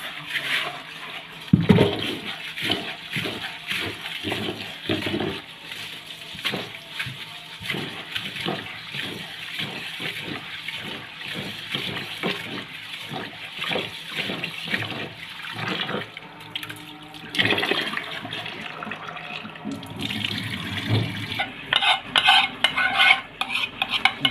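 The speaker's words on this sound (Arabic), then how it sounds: "يلا بقى نغسل شويه الرز" Rice is stirred and rubbed by hand in a bowl under running water, splashing and swishing in repeated rhythmic strokes, with a stronger gush of water near the end.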